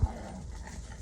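Excited dogs panting rapidly and steadily, close by, forming a continuous breathy rhythm with a faint low thump at the start.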